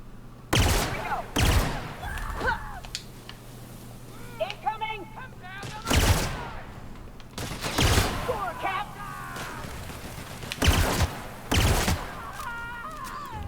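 Pistol fire in The Outer Worlds: about eight sharp, loud shots spaced irregularly over a steady hum, with someone talking between them.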